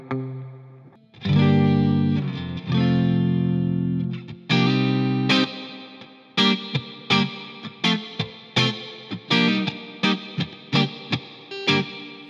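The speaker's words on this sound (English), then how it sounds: "Let's start bringing in some reverb." An electric guitar played through the spring reverb of a Hughes & Kettner Black Spirit 200 floor amp: sustained distorted chords, then a run of short stabbed chords, each followed by a splashy reverb tail.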